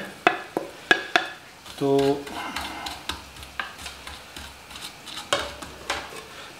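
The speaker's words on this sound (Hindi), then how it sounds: "ये रायते के लिए हमने थोड़ा सा ये ज़ीरा भूनना है" About a teaspoon of cumin seeds dry-roasts in a pan for raita, with sharp utensil clicks and taps and a light crackle, then a short burst of a voice briefly speaking.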